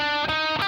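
Heavily distorted electric guitar plays a quick sustained phrase from the second measure of a song, loud, buzzy and close, with no talking.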